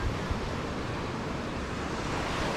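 Rough, rising surf at Boa Viagem beach in Recife on a windy day, a steady wash of crashing waves mixed with wind noise on the microphone, continuous and fairly distant, with no talking.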